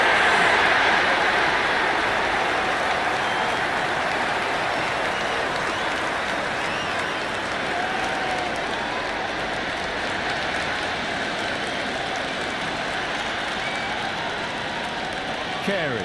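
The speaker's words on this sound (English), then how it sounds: "There is an almost tangible fervour throughout the crowd at the moment." A large crowd in the cricket video game Cricket 26 cheers and applauds steadily throughout, a dense, sustained roar of clapping and voices without clear individual words.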